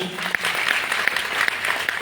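An audience at a business gathering claps for a guest, a brisk, continuous burst of applause with a few sharp individual claps standing out, under a voice talking over it.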